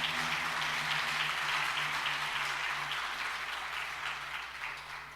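A church congregation claps loudly and steadily throughout, a dense continuous roar of hands in a large reverberant hall with a low hum underneath.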